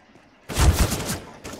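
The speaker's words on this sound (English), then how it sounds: "Shoot, shoot!" Gunfire in the video game Counter-Strike: Global Offensive during a bot match, a sudden loud burst of rapid shots lasting about a second, then a short trailing shot, no talk.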